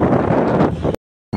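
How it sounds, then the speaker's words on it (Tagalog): Strong wind buffets the microphone in a loud, rough roar for about a second, then cuts to silence before gusting back in. "Lakas ng hangin"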